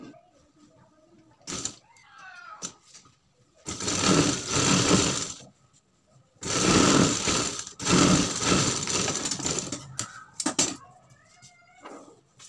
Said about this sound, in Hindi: दोस्तों इसके ऊपर हमें लप्पे सिलाई लगा देनी है।